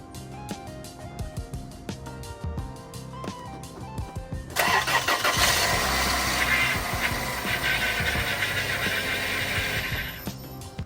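A cheap used car's engine cranks with a rhythmic stuttering starter whine, then catches and roars to life loudly, settling into a steady rough idle before cutting off; no talk.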